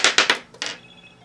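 A telephone rings in four quick, bright, rattling bursts, each cut off short and close, the last trailing into a faint fading tone.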